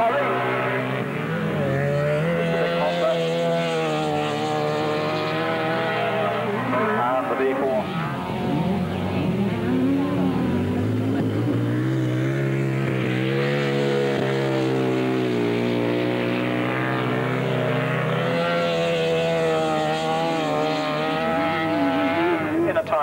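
Yamaha-engined sidecar outfits in a Wasp chassis race on a longtrack in the 1980s. Their engines drone steadily throughout, rising and falling in pitch as the machines pass, with a commentator talking over them.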